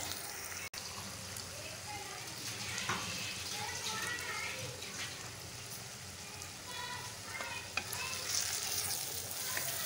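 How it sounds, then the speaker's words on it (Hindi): Steady sizzling of garlic and ginger frying in a hot karahi pan, a continuous crackling hiss with occasional soft clinks. "ये देखिए लहसुन अदरक अच्छी तरह भुना गया हमारा, 3-4 मिनट भून लिया हमने।"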